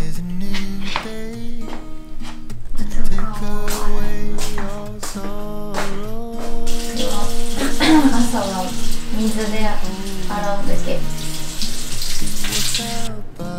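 Tap water runs into a bathroom sink during a morning face wash, a steady hiss rising partway through and sitting beneath louder background music.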